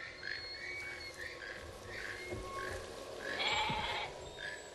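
Several short bleats from a goat repeat over a steady outdoor background, with a louder, longer cry toward the end.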